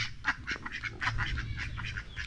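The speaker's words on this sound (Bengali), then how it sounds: "এদিকে রয়েছে ছাগল আর হাঁস" Domestic ducks quack in a rural village near an international border where goats are also kept: a quick run of nasal quacks close by, overlapping and irregular, over a low ambient rumble and no talk.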